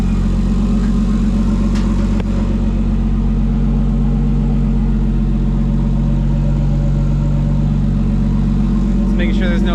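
Nissan S13 project car engine running slightly lean after being revived: a loud, close, steady idle with throbbing low rumble throughout, with faint talk underneath.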